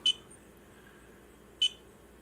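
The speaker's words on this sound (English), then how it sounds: "You got the beeping" Two short, high electronic beeps roughly a second and a half apart, clear against a quiet background.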